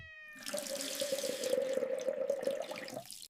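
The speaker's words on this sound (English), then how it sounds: "Fill your water bottle." Water runs from a tap into a water bottle, a steady splashing fill that rises in pitch briefly and then stops, heard alone.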